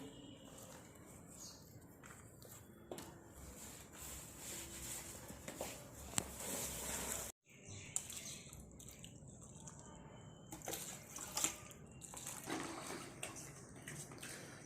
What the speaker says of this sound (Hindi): और खाद डालने के बाद इसमें पानी देंगे।